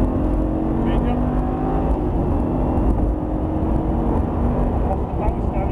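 A Lamborghini supercar engine drones loud and steady from inside the cabin while being driven on a track, with a continuous low roar that shifts slightly in pitch. A voice talks over it throughout.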